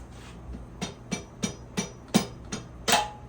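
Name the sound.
rubber hammer tapping a bolt into place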